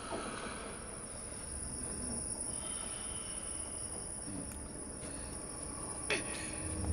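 A train rolls past in the side-scrolling game Inside, heard as a faint, steady low rumble with a thin high whine and a couple of brief squeals near the end.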